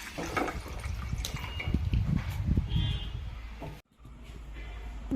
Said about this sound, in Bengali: কড়াইয়ে জল দিয়ে দিলাম।